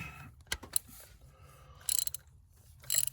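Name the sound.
ratchet loosening Hemi spark plug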